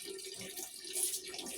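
Water poured over an elderly man bathing, a short continuous splashing gush like a running tap, close and steady with no talking.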